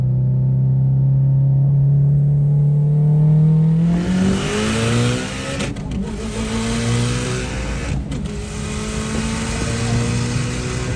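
A tuned, daily-driven 700 hp Mitsubishi Evo X accelerates hard from a 40 mph roll, with loud, close engine whine climbing steadily in pitch through two quick upshifts.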